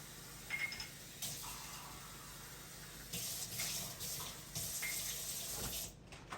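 Tap water runs into a sink in quiet bursts, starting and stopping several times, with faint clinks, close and fairly soft.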